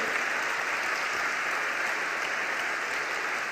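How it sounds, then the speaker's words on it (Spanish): Sustained applause from a church congregation during a sermon, steady and dense clapping throughout with no voices rising above it. "le damos un gran aplauso"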